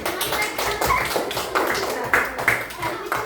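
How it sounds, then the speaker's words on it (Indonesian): A classroom group claps for group 3 after their presentation, a steady patter of scattered hand claps from several students, close and continuous, with a few murmured voices underneath. "tepuk tangan buat kelompok 3"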